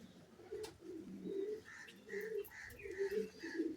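Racing pigeon cooing in soft, repeated low throaty phrases, fairly close and quiet, with a faint chirp or two in the background.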